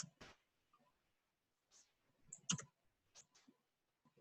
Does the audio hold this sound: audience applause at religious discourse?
no